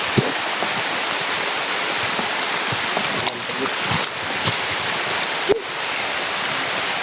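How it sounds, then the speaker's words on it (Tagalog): Heavy rain pours down in a dense, loud, steady hiss, with a few brief knocks and drips standing out above the downpour. "Lakas ng ulan."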